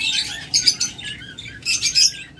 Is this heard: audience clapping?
no